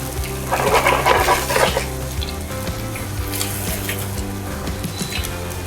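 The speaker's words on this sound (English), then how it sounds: "we'll get this pork belly searing off" Pork belly searing in a hot pan, a continuous crackling sizzle with a busier burst of spattering early on, steady and close throughout.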